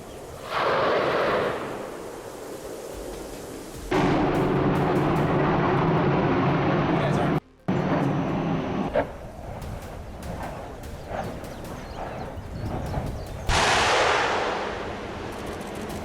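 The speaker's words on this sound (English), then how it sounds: "Have you ever witnessed an explosion this intense?" Volcanic eruption in Hawaii, with loud broadband blasts and roaring rumbles in several bursts separated by abrupt cuts, sustained and close throughout.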